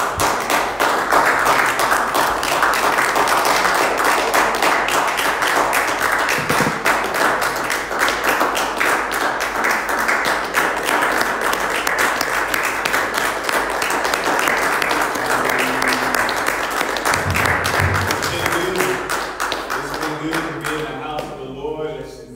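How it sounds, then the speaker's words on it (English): A church congregation stands and claps for a long stretch, a dense, loud and sustained roar of hands with a few thumps and faint voices mixed in, thinning out at the very end. "Let us stand to our feet and give the Lord a round of applause."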